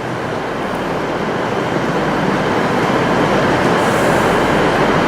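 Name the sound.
train arriving at station, to Hull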